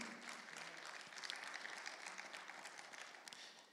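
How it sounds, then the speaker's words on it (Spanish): Church congregation at a Spanish-language Bible study giving a loud round of applause, many hands clapping steadily throughout before tapering slightly at the end. "Le da un fuerte aplauso al Señor."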